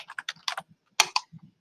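Quick keystrokes on a computer keyboard, clicking in short close-up bursts with a brief pause in the middle, with no voices.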